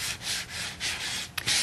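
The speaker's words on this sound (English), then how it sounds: "And then I just take our sanding block and I just..." A sanding block rubs back and forth over wood painted with a black oil-based base coat under a Bluestone top coat, distressing the finish. Four or five close, steady scraping strokes sound alone.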